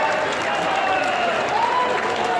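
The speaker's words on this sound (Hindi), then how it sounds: "अब जोरदार तालियां, जोरदार तालियों से योगी जी का स्वागत करें" Large crowd applauding at a public event welcoming Chief Minister Yogi Adityanath, a steady wash of clapping with a few faint tonal whistles or voices over it, loud and continuous throughout.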